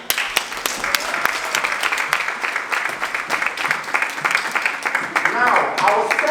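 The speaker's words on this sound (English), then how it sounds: "Let's all give a massive round of applause as she makes her way to the stage" An audience at a skincare company launch event applauds as a brand ambassador walks on stage, the clapping steady and fairly loud while a voice keeps talking over it.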